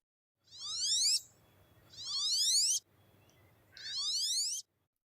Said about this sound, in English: Male and female wood ducks have different voices.